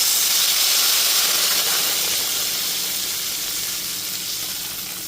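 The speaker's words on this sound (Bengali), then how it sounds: "সমস্ত মাছের পিসগুলো দিয়ে দেওয়ার পর তারপর দিয়ে দিচ্ছি পরিমাণ মতো জল" Water poured onto hilsa fish pieces coated in salt and turmeric in a hot pan bursts into a loud steamy hiss that slowly eases over several seconds.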